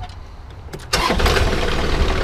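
A Ford 6.7L diesel Super Duty truck engine cranks and fires up after a quiet moment, then settles into a loud, steady diesel idle close by.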